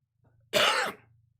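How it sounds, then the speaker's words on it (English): A single harsh, close cough from a man with a lung infection bursts out of near silence, short and raspy, then fades quickly. "If you start hearing me cough, I apologize."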